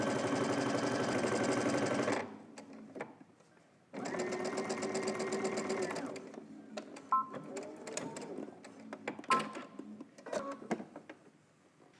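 A sewing machine stitches a robe collar on a lounge robe made from Simplicity pattern 9931, running in two steady bursts with a pause between, followed by quieter handling clicks and rustles nearby.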